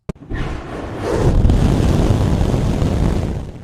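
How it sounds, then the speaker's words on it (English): SpaceX Starship Booster 19 firing all 33 engines at full thrust and full duration in a static fire, heard as a sudden onset swelling into a loud, steady, deep roar that stays sustained to the end. "SpaceX finally completed a full duration and full thrust 33-engine static fire with Booster 19."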